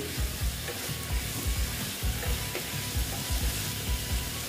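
Six pointed gourds fry in a small amount of spice paste in a pan, with steady close sizzling broken by repeated scraping stirs, and no voices.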